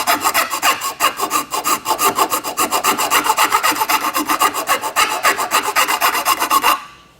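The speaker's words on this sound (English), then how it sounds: "that's where I'm going to use the rasp" A rasp files ABS plastic up close in steady, rhythmic back-and-forth strokes, a loud scratchy rasping that runs continuously for several seconds before stopping.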